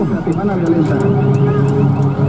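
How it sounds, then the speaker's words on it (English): Car alarms go off after a loud boom, their repeating electronic tones mixed with road noise as people talk loudly over them. "car alarms are going off because of the boom"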